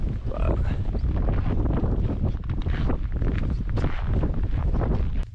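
Strong, cold winter wind blasts straight into the microphone outdoors in the snow, a dense, constant roar and buffeting with no break across the whole stretch.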